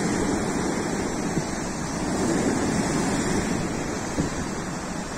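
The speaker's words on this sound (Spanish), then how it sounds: "Y ahora pues aquí tenéis el mar un poquito picado." Choppy sea at Playa de La Araña in Málaga, with a steady broadband wash of surf and wind rushing continuously and a few slightly stronger wave surges, no voices.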